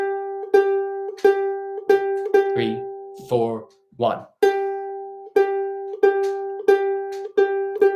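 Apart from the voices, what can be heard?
guitar playing a song's turnaround section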